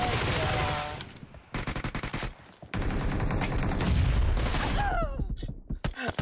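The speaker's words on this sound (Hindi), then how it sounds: "ये शॉटगन वाले साला शॉटगन चला रहा है" A shotgun firing in the mobile battle royale game BGMI, heard as loud rapid gunfire bursts with repeated sharp blasts and short gaps, close and dense, mixed with game noise and some talk.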